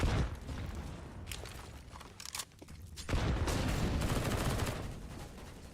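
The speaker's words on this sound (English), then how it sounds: "Boomich maintaining presence with that SMG at the half wall, just spamming through their own smokes" An SMG sprays through smoke grenades in a CS:GO match, with rapid bursts of automatic gunfire layered over dense in-game noise, dipping briefly before a heavier sustained burst resumes.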